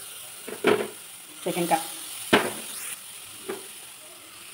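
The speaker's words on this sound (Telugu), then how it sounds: "ఇప్పుడు మనం దీంట్లో ఇప్పుడు క్యారెట్ని ఫ్రై చేసుకుందాం" Grated carrot frying in ghee for carrot halwa, with soft sizzling and stirring scrapes in a pan, broken into short bursts while someone speaks briefly in Telugu.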